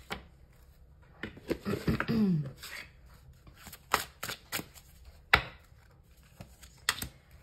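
Tarot cards shuffled and drawn by hand: scattered soft riffles, slaps and taps, irregular and close, with a brief murmur of voice in the middle.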